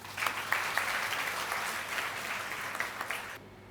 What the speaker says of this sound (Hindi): तालियों के बीच